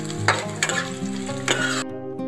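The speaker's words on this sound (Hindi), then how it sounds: "अब जाएगा इसमें लहसुन, जो हमने छील के रखे थे, सीधा हमने डाल दिया है" Peeled whole garlic cloves frying in oil in a pan: bright, steady sizzling close to the mic, broken by a few quick stirring scrapes, and ending abruptly with no speech.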